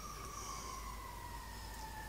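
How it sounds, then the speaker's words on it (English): A fire truck siren wails faintly in the distance, its drawn-out tones holding steady over a low background rumble. "Sounds like a fire truck going by."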